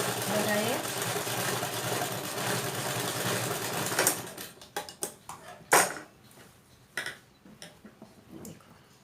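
Sewing machine stitching a simple blouse: a steady mechanical whir runs for about four seconds, then stops and gives way to a few sharp clicks and taps, with a voice heard faintly under the machine.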